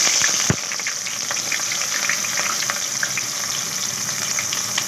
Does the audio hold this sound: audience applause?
no